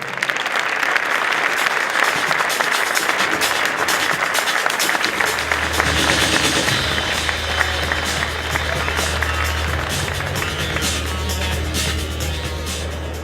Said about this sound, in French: Je vous demande d'applaudir Monsieur Karim Bellassène.